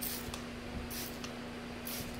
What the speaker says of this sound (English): Okay, just got a little spray bottle here.